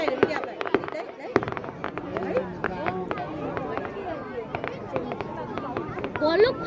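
Fireworks burst in the night sky at the 2018 Phật Tích festival, with many sharp cracks and pops firing in a rapid, irregular barrage while a crowd chatters throughout.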